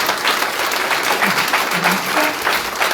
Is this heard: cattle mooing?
no